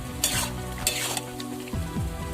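Kochu shak with chickpeas and spices stirred and frying on high flame, with a constant sizzle, scraping spatula strokes against the pan and a few metallic clinks.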